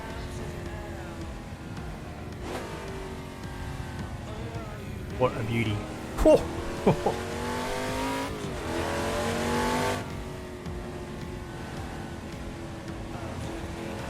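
A 1969 Chevrolet Camaro Z28 muscle car on a scenic road, its V8 engine rumbling and revving in a few short bursts, with someone talking over it.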